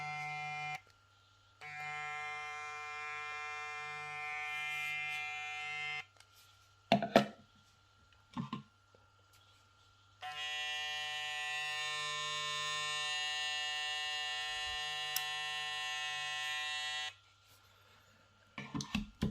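A Kiepe Superfast V12 hair clipper with a rotary motor hums close and steady in two long bursts of several seconds each, separated by handling clicks and taps.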